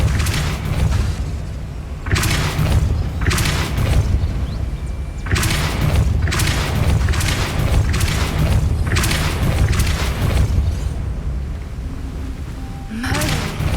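Spells are cast in Hogwarts Legacy, including the Depulso force spell, heard as repeated deep whooshing booms in bursts over a steady game-ambience rumble, with a short rising effect near the end.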